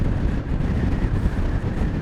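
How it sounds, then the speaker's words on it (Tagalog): Strong wind buffets the microphone beside a road near Pantabangan, a continuous loud low rumble with gusty fluctuations and no voices. "Napakalakas din ng hangin na sumasalubong sa atin"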